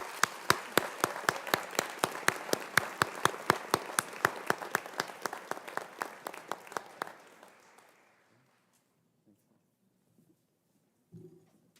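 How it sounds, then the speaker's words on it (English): Audience applause at a university convocation and graduation awards ceremony: a distinct, fairly sparse run of claps tapering off after about seven seconds into near silence, with a faint thump near the end. "Let's give them all a big round of applause."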